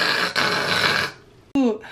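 A voice imitates loud snoring in a rough, drawn-out snort, followed after a brief pause by a short vocal burst.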